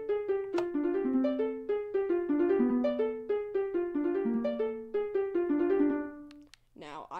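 A song played on Minecraft note blocks, a fast bright plucky melody over a bouncing bass line in steady rhythm, loud and close, ending with a short burst of voice at the finish.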